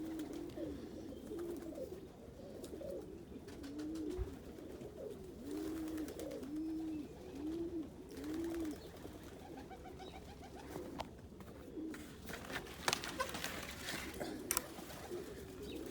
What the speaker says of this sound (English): Birds are doing fine.